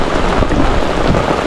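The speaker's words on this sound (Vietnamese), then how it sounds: "vẫn còn mưa to nè các bạn, coi nè mưa nè" Heavy rain pours down beside a river during a fishing trip, a dense, loud, unbroken hiss of drops striking surfaces close by, with no voices.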